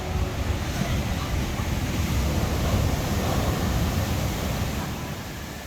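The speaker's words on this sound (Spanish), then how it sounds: "está duro el oleaje" Strong ocean waves break on a beach in Bali, a steady, loud roar of surf with broad wash and rumble that holds for several seconds and eases slightly at the end, with no voices.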